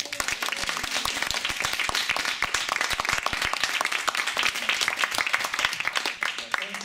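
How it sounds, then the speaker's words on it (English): Audience applause at a live comedy show at the Dungeon, dense and steady clapping for several seconds from a small crowd. "give a nice round of applause and welcome to Chris Dews"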